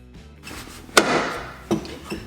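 A sharp metallic hammer strike on a 2004 Subaru Forester XT wheel hub rings out, followed by a second, softer clank and a faint tap, each with a brief ringing decay.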